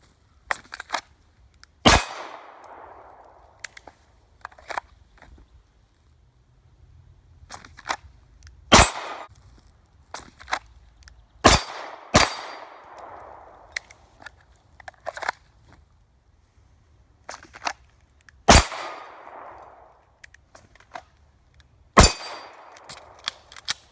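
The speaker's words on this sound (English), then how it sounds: "So I'm going to cut to some clips of shooting" Full-size pistol fired on a shooting range, single sharp shots spaced irregularly, about seven in all, each with a brief echoing tail and low background rumble between.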